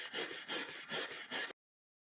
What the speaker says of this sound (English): just going to use some general purpose cleaner and a soft brush. Looks like a wire toothbrush.